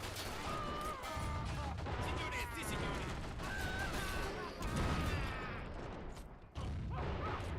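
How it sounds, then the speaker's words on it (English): Machine gun fire and battlefield blasts rattle in a WW1 All Quiet on the Western Front game, dense bursts of gunfire and crashing impacts in a busy mix, with a voice speaking over part of it. "That's a nasty machine gun."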